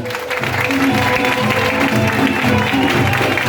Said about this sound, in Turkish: Alkışlarınızla efendim